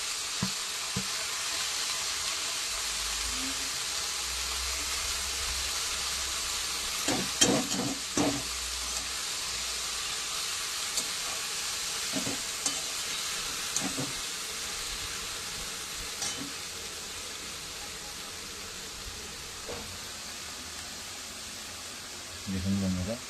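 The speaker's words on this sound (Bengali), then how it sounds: "শাক ভাজছে, কলমি শাক" Water spinach (kolmi shak) frying in a pan gives a steady close sizzle and hiss, broken by occasional scraping stir strokes, while a voice talks over it now and then.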